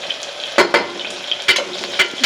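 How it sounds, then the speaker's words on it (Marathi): Chopped onion frying with curry leaves in hot oil, a close, continuous sizzle broken by several sharp spatula scrapes against the pan. "आता याच्यामध्ये हा चिरलेला कांदा टाकायचा"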